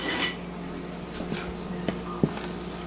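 A spoon stirs thick apple cake batter and flour by hand in a bowl, giving soft scraping and rubbing with a few light clinks against the bowl, close and fairly quiet.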